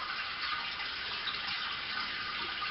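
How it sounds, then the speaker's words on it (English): Water draining from a bag of spent brewing grain into a stovetop pot, a steady hissing trickle and splash that runs evenly and close, with no talk. "So just watch it for a little bit while a little bit of that water comes out"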